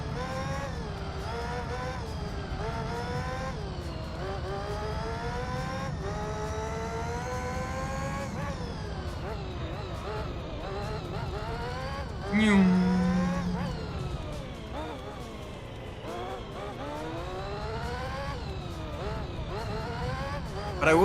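Race car engine in Gran Turismo 3, a close whining engine climbing through the revs with repeated gear shifts and brief dips, steady and loud for about twenty seconds with a short bump midway.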